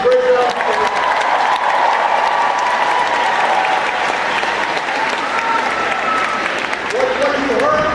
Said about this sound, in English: you heard Mark up here talk, and give Mark a big round of applause for the great job.